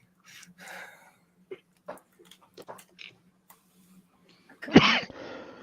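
After a few quiet breaths and small clicks, a single loud sneeze bursts out near the end, close to the listener.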